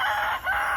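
Short, close clucking and crowing from backyard chickens, a single bright call breaking off near the end, with no other sounds.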